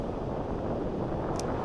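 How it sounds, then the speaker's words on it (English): Steady wind roars and buffets the microphone with a constant broadband rush, with no voices, at a beach on the Big Sur coast. "I don't know if you can hear me with all this wind"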